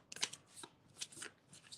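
A deck of playing cards is shuffled by hand in quick riffling bursts, several crisp papery flutters close up with short pauses between them, no talking.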